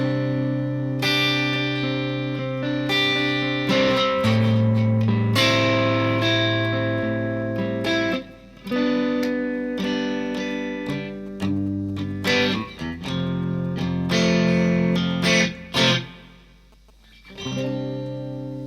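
Overdriven Squier 60s Telecaster electric guitar playing sustained chords and riffs with a gritty, distorted tone and a faint hum underneath, no voices.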